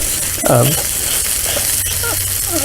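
Gluten-free waba bread dough sizzles on a hot griddle, a steady close frying hiss throughout, with a person briefly speaking over it.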